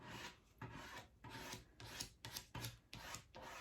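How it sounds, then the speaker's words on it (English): Repeated scratchy rasping strokes of a stiff brush dabbing paint through a stencil, about eight bursts in a steady rhythm, close and fairly quiet. "So I'm just gently poking it through or pushing it through the stencil."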